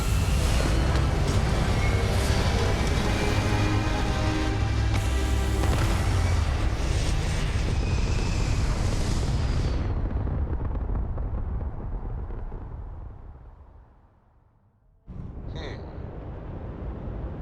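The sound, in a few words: spaceship thrusters firing in Starfield video game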